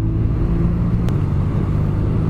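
BMW R nine T 2017 motorcycle with Brembo four-piston brakes, its engine humming and vibrating steadily while riding, a continuous low drone with faint wind and no speech.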